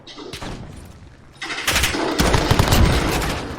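Dense video game gunfire from a PS4 shooter, rapid bursts of shots that build into a loud, continuous automatic barrage in the second half, with no talking over it.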